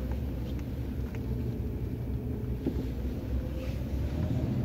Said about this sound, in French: le moteur vibre beaucoup plus